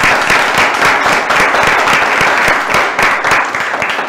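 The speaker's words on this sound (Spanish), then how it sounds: "Un fuerte aplauso." Dense, loud audience applause from a crowd at a live Spanish-language show, steady many-handed clapping throughout with no talking over it.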